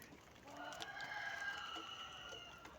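Turkeys kept as farm poultry call out with a series of harsh, warbling cries that rise and fall over a few seconds, moderately close, with no talking.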